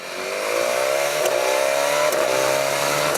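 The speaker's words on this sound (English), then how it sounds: "the engine sounds fucking awesome" BMW S1000XR inline-four motorcycle engine revving up close, pitch climbing smoothly through the rev with a loud sustained whine and brief shift-like dips, no talk.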